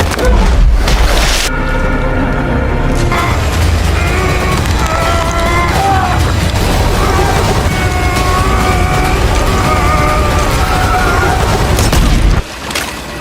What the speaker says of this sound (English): a grenade appears right behind Sugar and explodes